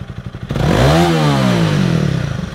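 A Honda CRF300 Rally motorcycle with its stock exhaust is blipped to full throttle for a second, the engine note rising sharply from idle to a loud, sustained high-rev roar.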